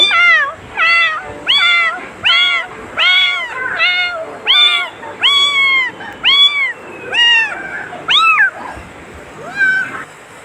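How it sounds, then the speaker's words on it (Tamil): A neighbour's kitten meows close and loud, about a dozen short, high, rising-and-falling calls in a quick, insistent rhythm with brief pauses between them. "ஒரு பூனைக்குட்டி பக்கத்து வீட்டு பூனைக்குட்டி இருந்துச்சுங்க"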